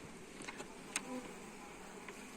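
Faint, steady buzzing of honey bees in the background at an apiary, with a few soft clicks and insect hums passing close by.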